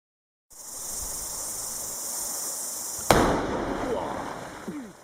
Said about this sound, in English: By the time we blew a hole into solid papa and then blew out a big crater